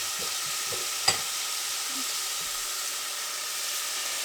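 Meat sizzling steadily in a hot pan, with a few soft scrapes from a non-metal utensil against the pan and a brief clack, close and continuous throughout.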